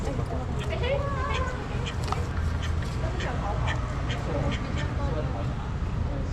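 Nasal duck quacks repeat in short bursts over a noisy background at a capybara cafe, with people talking nearby.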